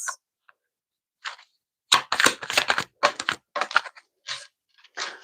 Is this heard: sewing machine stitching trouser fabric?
no